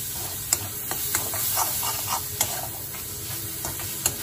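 Spoon stirring a red chilli powder and turmeric spice mixture in a pan, with soft scraping strokes and faint sizzling, a few sharp clinks of the spoon against metal, close and steady with no talk.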